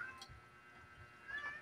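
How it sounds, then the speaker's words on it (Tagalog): A house cat meows faintly in the background during a dinner at home, brief calls rising at the start and again near the end over low room noise. "yung pusa namin ngiyaw ng ngiyaw"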